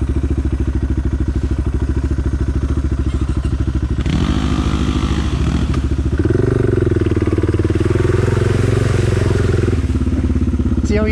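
A Suzuki DR650 motorcycle engine thumps and idles continuously up close, its pitch shifting as the bike is ridden over rough ground with clattering bumps.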